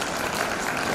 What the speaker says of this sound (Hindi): एक बार जोरदार तालियां लगाएं